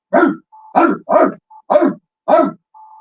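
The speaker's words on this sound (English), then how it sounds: "Charlotte said now she hears Piggy barking." A dog barks five times in quick, sharp bursts, close and loud, with brief quieter tones between barks.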